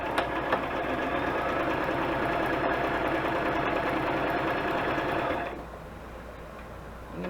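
A sewing machine stitching index card pockets runs in a steady, close mechanical whir, then drops to a quieter, lighter hum for the final couple of seconds.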